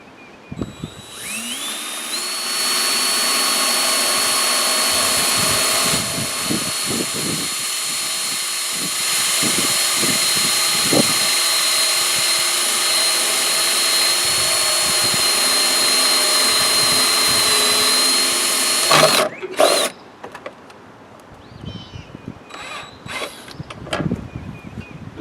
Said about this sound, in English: we're going to drill the hole for our switch in that plastic